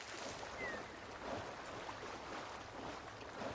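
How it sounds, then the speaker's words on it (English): A horse swims through water in the video game Ni No Kuni, making a faint, continuous sloshing and rushing water sound with soft swells and no voices. "My horse swims now."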